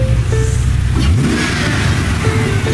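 A cheap car sold as a race car revs its engine hard, a loud, rough, close roar that swells and climbs in pitch, with no talking.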